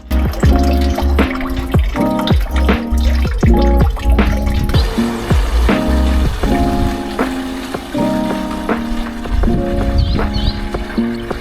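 Old coolant and deionized water drip from the cooling system of an Audi A4 Cabrio 2.4 V6, close up and steady, with repeated splashing drops landing in a rhythmic pattern throughout.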